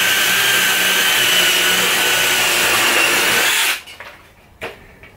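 An Irwin Speedbor spade drill bit bores through timber with a loud, continuous drill whir for nearly four seconds, then stops abruptly, leaving faint knocks and handling sounds.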